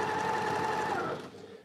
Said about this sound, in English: I'm just sewing 1/4 of an inch all the way along this block.